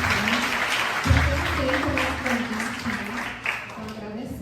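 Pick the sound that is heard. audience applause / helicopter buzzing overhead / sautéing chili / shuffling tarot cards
audience applause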